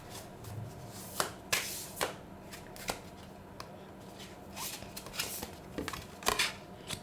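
Tarot cards being shuffled close by in a quiet room, with several crisp riffling bursts and soft slaps spread irregularly through the clip, and no talking.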